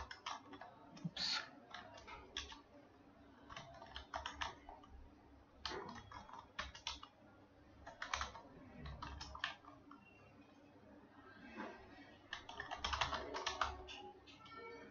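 Keys click on a computer keyboard as a title is typed in Photoshop CC, with quiet, close, irregular bursts of keystrokes separated by short pauses.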